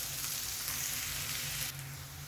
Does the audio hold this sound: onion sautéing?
yes